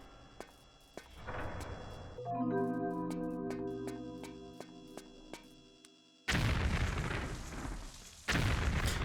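Explosions in the Tomb Raider: Chronicles level The 13th Floor come as loud broadband bursts, with sharp isolated booms early, a tonal musical stretch in the middle, then two heavy sustained blasts near the end.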